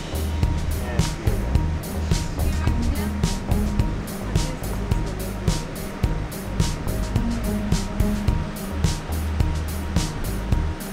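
Waves wash continuously onto a beach in Emilia-Romagna, Italy, a broad rolling surf roar with repeated swells, fairly near and steady, with faint wind underneath and no clear voices.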